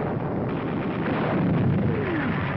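A wartime artillery shell strikes an enemy 88mm gun position in the North African desert, heard as a heavy, rumbling blast with a dense low roar that fills the whole stretch, on old band-limited film sound.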